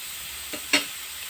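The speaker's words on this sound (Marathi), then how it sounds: "कांदा, मिरची, लसूण, जिरं, हे सगळं असं छान परतून घेते मी" Onion, green chili, garlic and cumin masala sautéing in a pan for a drumstick-leaf vegetable dish, a soft steady hiss broken by one or two brief scraping clinks, close and quiet.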